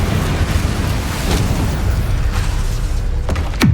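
A Confringo fire spell cast in Hogwarts Legacy bursts with a loud, dense boom. Sharp cracks follow near the end of the short stretch, and no voices are heard.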